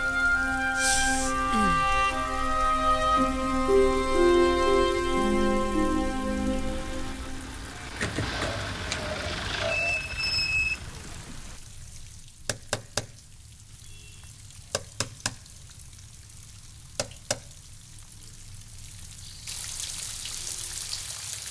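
Steady rain hisses throughout, with faint tonal sounds early on and a few sharp clicks later.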